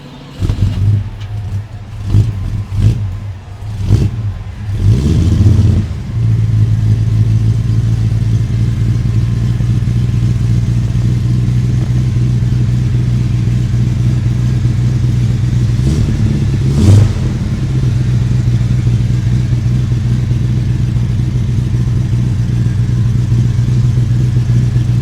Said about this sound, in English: So let's do a startup and take the first spin, Jake.